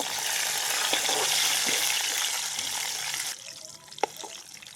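Loud, hissing sizzle of garlic dropped into hot oil as a tempering for pumpkin curry, close by, easing off abruptly after a few seconds, followed by a couple of light clinks.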